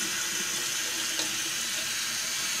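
Steady, loud rush of water pouring continuously, like a tap running onto a surface, with no pauses throughout.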